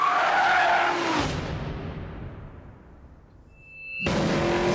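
A Nissan Skyline R34 drifts with a loud tire skid that slowly fades away as it recedes, then a brief tonal squeal before another burst of skidding starts abruptly at the end.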